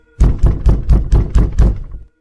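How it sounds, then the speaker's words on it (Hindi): Seven heavy knocks on a wooden door in an even, steady rhythm, each a loud close thud, used as a horror story sound effect. "अचानक से सबके घरों के दरवाजों पर खटखटाने की आवाज आने"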